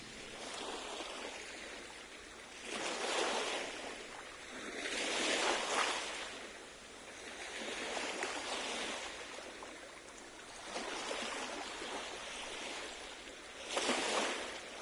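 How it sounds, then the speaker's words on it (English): Ocean waves in the Star Ocean The Second Story R game roll in slow repeated surges, each swell of surf building and receding over a soft steady wash. "Waves?"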